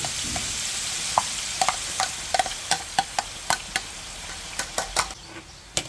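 A large batch of garlic fries in oil over medium-low heat with a steady soft sizzle, while a utensil stirs and scrapes the pan in regular close clicks.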